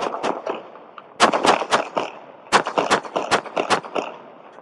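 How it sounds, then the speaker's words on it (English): Police officers in Fresno fire their guns, and the sharp, loud cracks land in rapid volleys, several shots in quick clusters with brief gaps between them, in a bodycam recording. "Suspect down. Shots fired."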